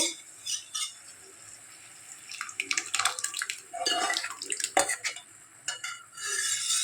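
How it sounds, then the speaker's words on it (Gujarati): Boiled mixed dal for Rajasthani panchratna dal is poured into melted butter in a pan. Close, wet sloshing and splashing come in irregular bursts, with scraping stirs and light clinks of utensils. "તો એની અંદર આપણી દાળ છે જે આપણે બાફીને રાખી હતી એ દાળને આપણે આમની અંદર એડ કરી દઈએ"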